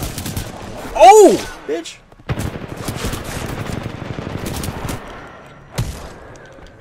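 Bursts of gunfire from the Titanfall 2 video game during the Kane boss battle, with rapid automatic fire and loud blasts sounding alongside a player's excited speech.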